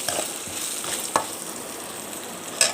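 Rice with turmeric, ginger-garlic paste and oil fries in a pan for lemon rice, giving a steady close sizzle with a few sharp clicks of a spoon stirring against the pan.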